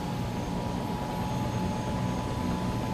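Turbine engine of a Bell 206 helicopter in the CowanSim flight simulator, a steady, dense whine and roar holding level and loud from start to finish with no pauses.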